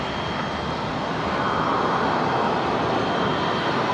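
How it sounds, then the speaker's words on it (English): A Qantas airliner arriving from Christchurch touches down at Brisbane International Airport, and its engines give a loud, steady broadband roar that holds evenly throughout with no voices. "Qantas 134 from Christchurch touching down"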